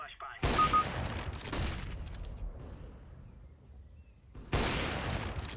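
Gunfire from a Counter-Strike: Global Offensive match rings out in two loud bursts of rapid shots separated by a quieter stretch of game ambience.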